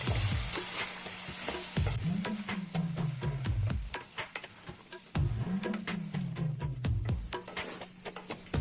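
Rice and boiled green peas hit hot oil in a pan for a coconut milk biryani, giving a loud, steady sizzle and crackle with bursts of stirring and scraping throughout.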